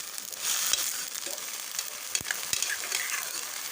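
Food sizzles in a frying pan while banana pitha is made, a soft continuous hiss broken by a few sharp clicks of a utensil against the pan, with no speech.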